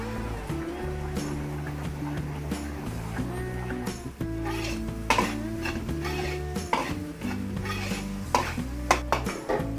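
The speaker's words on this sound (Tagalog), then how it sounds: "Igisa na natin yung ating tomato sauce." Tomato sauce is sautéed in a pan as a metal utensil scrapes and clinks against it in irregular taps, with steady tonal music playing underneath.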